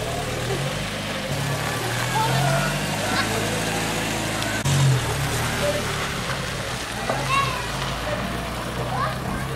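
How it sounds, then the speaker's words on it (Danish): School cars idle and drive off at a school in Yola, Adamawa State, Nigeria, with a steady engine rumble under busy outdoor noise, children's voices and occasional splashing water nearby. "så nu bliver mange af dem kørt hjem i skolens egne biler."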